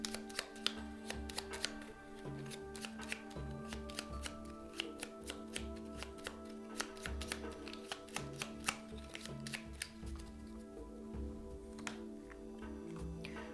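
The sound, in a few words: shuffling a deck of cards, Fallout board game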